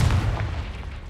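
A Confringo fire spell blasts off in Hogwarts Legacy, a single loud, booming burst with a heavy low rumble that fades away over about a second, with no talk over it.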